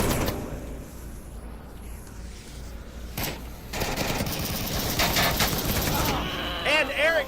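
Gunfire in the VR shooter Onward during a competitive Legionnaires vs Globochem match: sharp automatic bursts and scattered shots, loud and close, with metallic clatter and a brief sliding mechanism sound in between.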